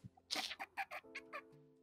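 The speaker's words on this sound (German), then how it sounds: "Ich habe eine fucking Katze hier" A cat gives a short series of rapid, chirping meows in close succession, fairly quiet and alone with a faint background hum.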